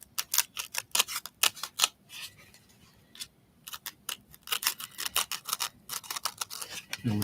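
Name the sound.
scissors cutting through craft material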